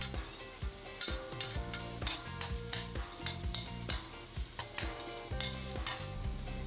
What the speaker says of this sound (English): add oil and stir fry the garlic